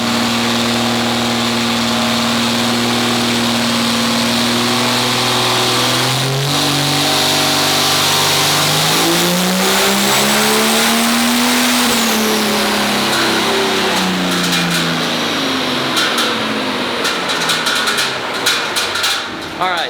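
A twin-turbo 12V Cummins diesel in a 2.6 pulling truck roars on a dyno, loud and sustained, with rising and falling engine pitch through the pull, followed by clanks and rattling toward the end; talk is faintly mixed in.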